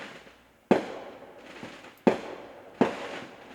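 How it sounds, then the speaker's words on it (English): Fireworks in the Vectorpark video game go off in three sharp bursts, each a crisp bang trailing into a short fizzing decay, fairly loud and alone with no talking. "We got the fireworks."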